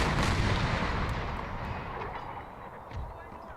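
Booming cannon artillery fire from a video game set in the American Civil War, a dense, loud rumbling barrage with overlapping blasts that fades slightly toward the end.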